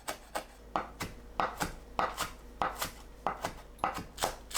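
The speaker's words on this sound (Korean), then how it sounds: "청양고추, 홍고추를 작게 썰어줍니다." Knife chopping green and red chili peppers into small pieces on a cutting board, a steady series of crisp, close taps in a regular rhythm with no talking.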